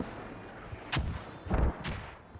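Mortar rounds boom during a competitive video game match, two or three heavy blasts with rumbling tails arriving about half a second apart over steady battlefield noise.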